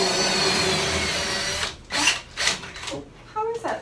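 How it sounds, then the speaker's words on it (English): A power drill whirs steadily into a wall for a couple of seconds, then stops, followed by a few short scraping and clattering noises. "Drill away."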